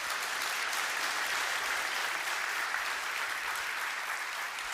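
A church congregation applauds in a sustained, even wash of many hands clapping, steady and fairly distant, filling the hall without pauses or speech.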